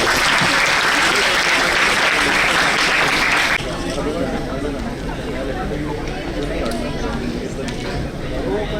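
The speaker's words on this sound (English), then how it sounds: "Please give a round of applause." Loud conference-hall applause from a large student audience, a dense roar of clapping that drops abruptly partway through to a lighter patter with a speaking voice over it.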